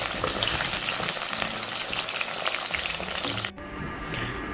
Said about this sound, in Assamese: প্ৰথমতে মই আলুখিনি ফ্ৰাই কৰি লৈছোঁ দেই